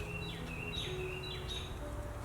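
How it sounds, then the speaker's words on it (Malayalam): Small birds sing nearby, with short rising and falling chirps repeated several times over a faint, steady background hum. "കിളികൾ നന്നായിട്ട് പാട്ട് പാടുന്നുണ്ട് കേട്ടോ"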